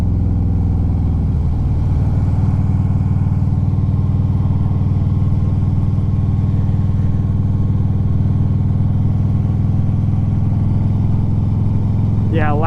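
A Triumph Bonneville motorcycle's engine drones steadily and loudly throughout while it is ridden, with a constant low rumble and wind noise.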